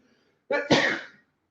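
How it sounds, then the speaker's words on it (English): A single sharp sneeze, close up, with a quick intake followed by an explosive burst that tails off within a second. "I'm going to sneeze."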